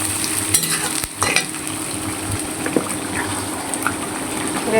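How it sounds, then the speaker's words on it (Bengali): Continuous hiss of hilsa fish frying in oil in an iron wok, with a few soft clatters and stirring sounds on top. "এবারে আমি বসা দিব ইলিশ মাছ, লোহার কড়াইতে দিয়ে দিব।"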